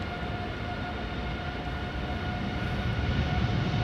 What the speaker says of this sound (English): TUI flight 365 to Willemstad Curaçao is about to spool up.